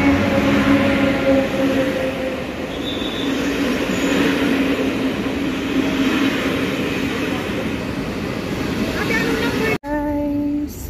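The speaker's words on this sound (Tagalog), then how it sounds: "Guys, ito yung train nila dito. Train namin." A train in Rabat, Morocco rumbles past loudly and continuously for about ten seconds, with wheel squeal and rail clatter. A brief drop comes near the end before the noise resumes.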